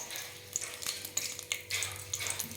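Whole spices, a bay leaf and a piece of cinnamon among them, sizzling in hot oil and ghee in a pan for pulao, crackling in bursts with stirring, close and fairly quiet.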